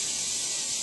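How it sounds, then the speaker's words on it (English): An aerosol can of vegetable oil sprays a light, continuous hiss onto a cookie sheet in a home kitchen while making gingerbread caramels; the steady, close spray lasts under a second with no talking. "just spray the cookie sheet with vegetable oil"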